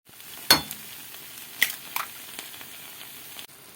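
Eggs frying in a hot pan with turkey steak pieces and broccoli: a steady close sizzle that flares with a sharp crackling hiss as the eggs hit the oil, then a few clinks before settling.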